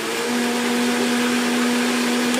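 A blender whirs on quartered beets, producing a loud, steady motor roar with a faint tonal hum that holds unbroken from start to finish.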